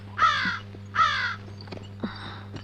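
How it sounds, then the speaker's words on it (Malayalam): A crow caws twice in loud, close, evenly spaced calls from an open hillside setting, followed by a fainter, rougher third caw, with a steady low hum underneath. "കാക്ക അങ്ങനെ ചുമ്മാ വിരുന്ന് വിളിക്കത്തൊന്നുമില്ല"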